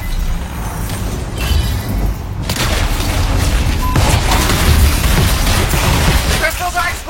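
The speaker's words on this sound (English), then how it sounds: "The crystals are exploding!" Crystals explode in a loud, dense barrage of booms and crackles that runs continuously and close, with a voice briefly heard over the din.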